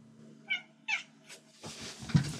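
Two short meows from a cat in the mobile game Mobile Legends, followed by a fainter third call and then a burst of in-game effects and noise.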